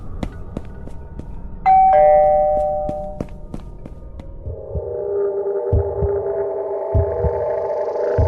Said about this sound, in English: So I'm gonna ring the bell and we'll see what happens.